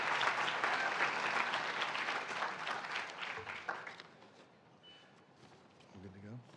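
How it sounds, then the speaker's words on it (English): An awards gala audience applauds, a dense burst of clapping that fades out after a few seconds, followed by quieter room noise and a voice. "Let's give everyone our own round of applause."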